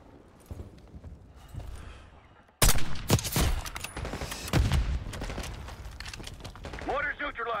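Mortar and gunfire in Call of Duty Black Ops 6 go off after a quiet start: sharp blasts and crackling shots follow a sudden loud onset, with shouted voices mixed in.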